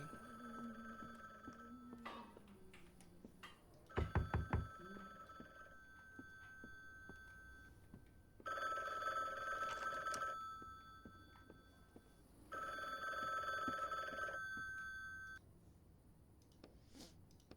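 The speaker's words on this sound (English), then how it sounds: "My phone's already ringing." A phone rings in the video game The Bookwalker: Thief of Tales as a steady electronic trilling tone, sounding in two long bursts after a few beeps and a brief clatter, clear and alone without talk.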